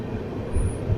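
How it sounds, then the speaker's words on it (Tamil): Train rumbling past a crowded station, a steady low heavy roll with a faint high squeal on top, close and continuous for a brief moment. "இந்த ஸ்டேஷனோட தாண்டில் ரயில் பார்த்தீங்கன்னா அந்த பக்கம் போயிட்டு இருக்கு"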